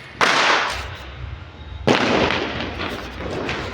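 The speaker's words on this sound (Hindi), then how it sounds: "और अभी हम छत पे आ गए पटाखे फोड़ने के लिए, क्योंकि नीचे जगह नहीं थी।" Two loud firecracker blasts go off on a rooftop during Diwali night in Noida, each a sharp bang followed by crackling and rumbling echoes, with more distant bursts continuing in the background.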